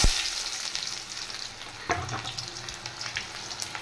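Chopped onions hit hot oil already seasoned with whole cumin, cloves, cardamom and cinnamon, giving a steady close sizzle with a sharper crackle as they go in and faint stirring throughout.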